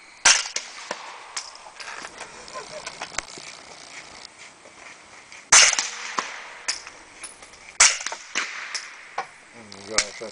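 Suppressed CZ Scorpion firing at a cardboard target outdoors, several sharp cracks and impacts spaced irregularly, a few much louder than the rest, with quieter clicks and handling noise between them.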